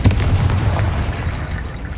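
Confringo fire spell exploding in Hogwarts Legacy, a dense, booming blast that holds loud and rumbling through the whole moment with no voices.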